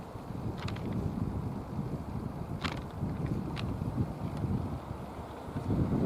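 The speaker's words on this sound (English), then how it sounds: "it's very windy." Strong wind buffeting the microphone outdoors by the sea in Belfast while a cruise ship passes, a constant low roaring rumble with gusty swells and a few faint higher clicks, no voices.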